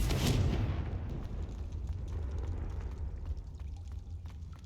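A Confringo fire spell explodes in the video game Hogwarts Legacy, opening with a loud burst that decays into a low rumbling roar fading over several seconds, with no talking.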